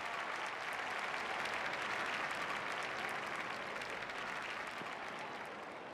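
A stadium crowd in the cricket video game Don Bradman Cricket 14 bursts into sustained, dense applause and cheering for a shot, loud and continuous before easing slightly at the end.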